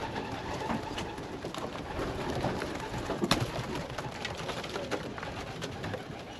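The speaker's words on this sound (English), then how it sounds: "These are my young birds now." Young racing pigeons coo steadily inside a loft, a dense soft chorus of overlapping coos and rustles close by, with no talking.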